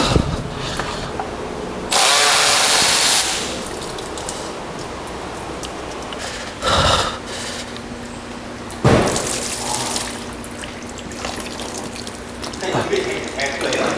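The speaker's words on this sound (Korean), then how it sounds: "바닥에 물 뿜는 거 보이지? 엄청 나오는데요?" Floodwater gushing out onto the ground from beneath a BMW 520d stalled in a heavy downpour, a steady rushing spray with louder bursts, heard close under intermittent talking.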